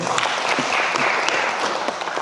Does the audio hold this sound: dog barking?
no